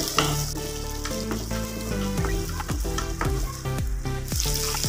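Onion and garlic sauté in a pan for a village-style sundakkai kulambu, with a steady close sizzle under loud musical notes and no talk.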